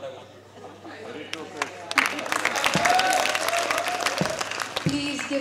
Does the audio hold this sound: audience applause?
yes